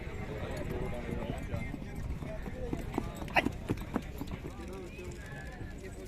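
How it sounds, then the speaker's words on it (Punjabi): Horse hooves clip-clop in a few scattered, uneven steps nearby at a horse fair in Talwandi Sabo, under people talking and busy crowd noise. "ਇੱਧਰ ਦੇਖੋ ਜਿਵੇਂ ਇਹਨੂੰ ਬਤਾਬ ਘੋੜੇ ਨੂੰ ਦੇਖਣ ਵਾਲਿਆਂ ਦੀ ਲਾਈਨ ਲੱਗੀ ਹੋਈ ਹੈਗੀ"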